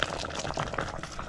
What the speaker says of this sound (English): Mom is saying we have to let it simmer